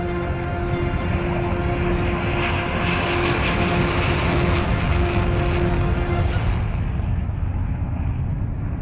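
Military fighter jet in flight, a loud continuous roar that swells to a broad rushing peak midway and then fades as it passes, heard alone with no talk.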